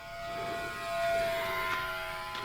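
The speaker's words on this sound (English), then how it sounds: "the reason it sounds like a kid's bike with a baseball card on the spokes is because it's a geared brushed motor" A mini RC P-51 Mustang warbird with a geared brushed motor makes a steady, high, whiny buzz at full throttle. It sounds like a card flapping in bicycle spokes, with a slight swell as the plane passes, and no talk over it.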